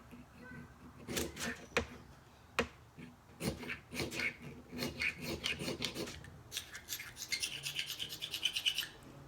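A fire starter rod is scraped in a series of sharp, raspy strokes, some single and some in quick bursts, close and distinct, with a faint softer scraping toward the end.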